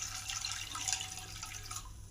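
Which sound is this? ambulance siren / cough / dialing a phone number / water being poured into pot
water being poured into pot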